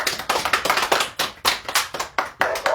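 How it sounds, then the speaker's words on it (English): Audience clapping for contestants at an event, a loose burst of hand claps rising and falling in irregular waves, fairly close and loud with no talk. "let's all just give a round of applause for all the contestants for that excellence"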